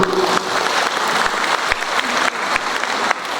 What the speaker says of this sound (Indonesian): Tepuk tangan untuk teman-teman guru.